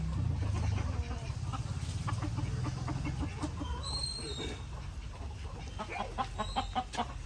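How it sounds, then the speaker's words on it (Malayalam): Free-ranging native country chickens at a poultry yard cluck repeatedly at a moderate distance over steady background noise, with no one speaking. "നമ്മളെ കോഴികൾ ഇപ്പോൾ പര പര ഓടും"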